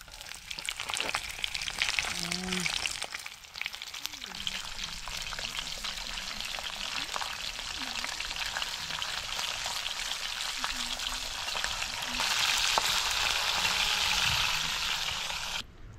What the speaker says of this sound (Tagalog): ating prituhin na ang daing